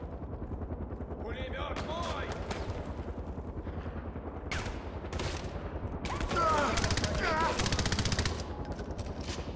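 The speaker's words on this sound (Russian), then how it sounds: "Кто стреляет?" Bursts of automatic gunfire in the video game Far Cry 4, rapid rattling volleys that swell and fade over several seconds, mixed with chaotic combat noise and some voices.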